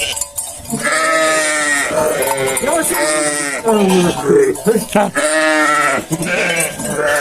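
Sheep on a farm bleat loudly and repeatedly up close, a chorus of overlapping wavering calls while a man calls out to them.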